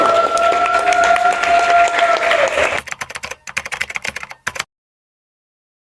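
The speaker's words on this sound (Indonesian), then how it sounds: "tepuk tangan untuk Pak Anto sekali lagi." Applause crackles for a few seconds under a steady tone, then thins into scattered claps that fade out to silence.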